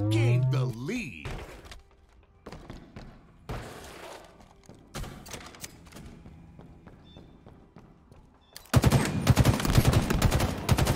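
Battle rifle and pistol fire in Halo Infinite multiplayer: scattered sharp shots and thuds under game sounds, building to a loud, dense stretch of gunfire near the end.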